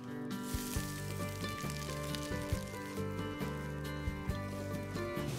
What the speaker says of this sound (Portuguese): nós vamos adiantar aqui um pouco a cebolada, que é azeite e cebola refogada, num pouco de alho também